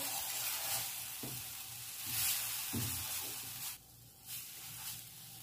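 A sticky mixture of dates and dry fruit with vanilla essence is stirred, making a quiet, close scraping and hissing texture with a few soft knocks.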